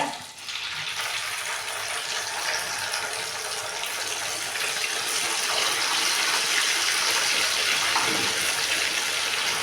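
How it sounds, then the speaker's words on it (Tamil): Idli pieces dropped into hot oil, setting off a dense, steady sizzle and crackle that builds and stays loud throughout, with no talking. "எண்ணெய் சூடாகிடுச்சு இப்போ வந்து கொஞ்சம் கொஞ்சமாக போட்டுக்குங்க"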